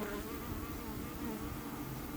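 Honeybees buzz around four small six-frame beehives at an apiary, a steady, dense hum that stays even and moderately close throughout, with no talking.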